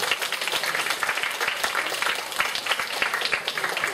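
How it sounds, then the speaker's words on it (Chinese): University students in a sociology lecture applaud at the end of class, a dense, steady patter of many hands clapping in a room that fills the few seconds evenly. "给自己一个掌声，好不好？"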